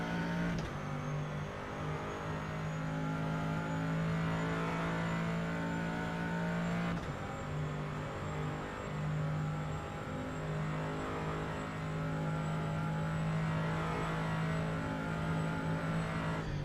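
Race car engine in rFactor 2, a sustained high-pitched mechanical whine holding nearly steady with a brief gear-change dip partway, loud and continuous with no talking.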